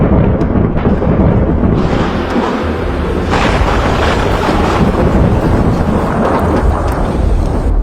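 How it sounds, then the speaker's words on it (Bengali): Loud, close rumbling thunder rolls continuously over steady light rain and gusting wind noise at a riverside forest camp, with no voices. "তো 6 নাম্বার দিনটি শুরু হলো আমাদের ভয়ানক বজ্রপাত এবং রিমিঝিমি বৃষ্টির মধ্য দিয়ে।"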